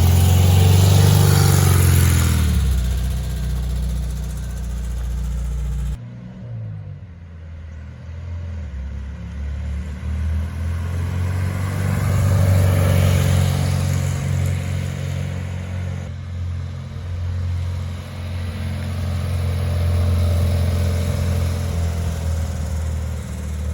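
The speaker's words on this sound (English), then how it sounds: "It drives like an old Beetle" A 1965 VW Beetle driving on the road, its engine droning steadily with a rise in revs near the start and gentle swells later, heard from inside the car without talk.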